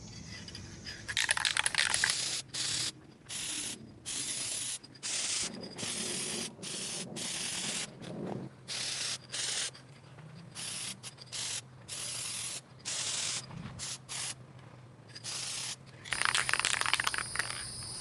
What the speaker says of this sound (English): now I'm going to spray the tangerine orange